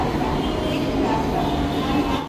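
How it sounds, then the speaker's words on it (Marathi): A train rushes past near Bandra station as a loud, steady roar and rumble that fills the whole moment close by, then cuts off abruptly. "ही बघा ही ट्रेन गेली."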